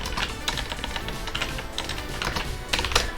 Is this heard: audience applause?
no